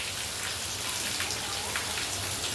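Steady rain pours outside a home, a dense, even wash of falling drops with no voices.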